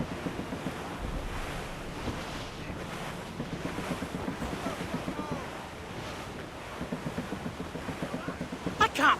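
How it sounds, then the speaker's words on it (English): Wind buffeting and waves washing against a sailing ship at sea in Assassin's Creed Rogue, a continuous rushing roar with rhythmic surges, steady and moderately loud, with voices faintly in the background. "That wind's trouble, Captain Cormac."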